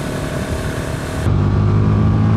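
KTM motorcycle engine pulling hard at open throttle, a loud, dense roar that steps up into a deeper, heavier drone partway through, with wind rush over it.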